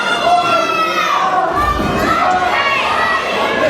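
Crowd at an NWA Mountain State wrestling show cheering and shouting for wrestler Ricky Shane, a loud mix of voices with a dull thud midway.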